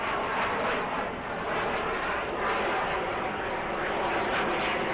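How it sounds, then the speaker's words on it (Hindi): A continuous broad roar of Indian Air Force fighter jets, including Rafales, rumbles overhead during an air show, loud and steady throughout with slight swells, like military aircraft passing in formation. "इन विमानों की गरज आप साफ तौर पर सुन सकते हैं"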